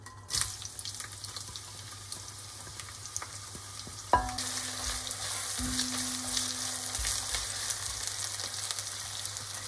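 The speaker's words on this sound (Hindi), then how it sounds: "अब इसके अंदर हम प्याज डाल देंगे। ये एक मीडियम कटी हुई प्याज है।" Chopped onions sizzle in hot oil in a cast iron pot, a sharp burst of frying as they go in partway through, then a steady, close crackling hiss with occasional stirring clatter.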